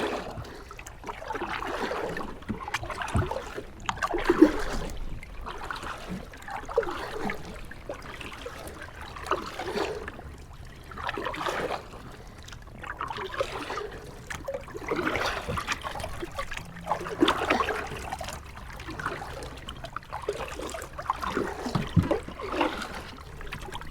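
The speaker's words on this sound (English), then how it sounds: "A little bit of current and shallow water." Kayak moving through shallow river current, with soft trickling and gurgling water around the hull in uneven surges, fairly quiet and close, no voices.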